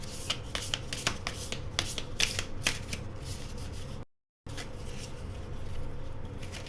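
A deck of Lenormand cards shuffled by hand: rapid, close riffling and rubbing of cards in quick bursts, with a short silent gap before the shuffling resumes.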